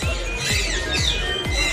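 Parrots at a bird park in Maleny, Queensland, Australia squawk and screech loudly and close by, with repeated harsh calls over busy chirping from other birds in the aviary.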